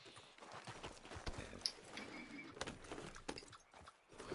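A horse's hooves clip-clop softly at a walking pace in Red Dead Redemption 2, a quiet, uneven stream of hoof strikes with a faint chirp in the background.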